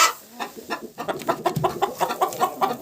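A young hen clucks after being startled, a run of sharp, repeated clucks close by with a steady, fairly quick rhythm and no talk over them.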